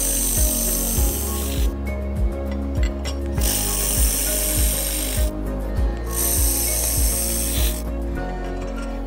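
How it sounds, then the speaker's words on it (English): A portable handheld laser welding machine welding thick aluminum gives a steady, loud broadband hiss with bursts that start and stop, over a low rhythmic ticking that repeats about once a second. "We can see that welding thicker aluminum is very easy and the speed is extremely fast."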